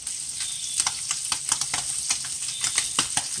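Ham frying and browning in a pan for a breakfast pita, a steady close sizzle with scattered crackles and small pops throughout.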